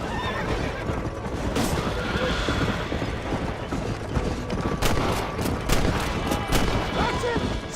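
Gunfire in the video game Red Dead Redemption, with scattered sharp shots over horses neighing and hooves clattering, dense and close throughout, voices shouting now and then.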